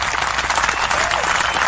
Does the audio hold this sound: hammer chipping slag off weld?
no